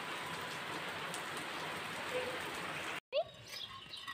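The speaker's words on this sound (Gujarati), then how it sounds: "આંગણામાં વરસાદ ચાલુ જ છે હજી" Steady rainfall patters on a hard surface in a courtyard nearby, a soft continuous hiss, then a brief cut and a short bird-like chirp.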